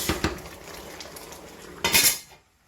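A lid set onto a pot of cocoyam soup with roasted fish, a few metal clinks at first, then a louder clattering clank near the end before it goes quiet, no voices.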